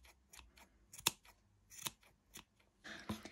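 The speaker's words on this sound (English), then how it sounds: "just trim them up, give them a shape" Scissors trim loose strands of super chunky yarn on a crocheted pom-pom, with several crisp, close snips at irregular intervals and quiet pauses between them.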